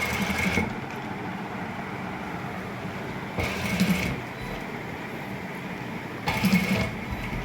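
A sewing machine stitches near cut buckram in three short whirring bursts, each about a second long, with quieter hum and background noise in between.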